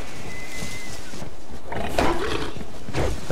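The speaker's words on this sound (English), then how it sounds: "That's a wolf." A wolf growls in the survival video game Savage Lands, a close, rough, rumbling snarl that swells and roars over a constant windy outdoor wash for a few seconds.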